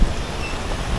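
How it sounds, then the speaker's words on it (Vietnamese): A strong wind gusts through a rain-soaked market in Nha Trang, a loud rushing roar that buffets the microphone, rising and falling slightly over a steady low rumble, with no voices. "Gió nó tạt đó."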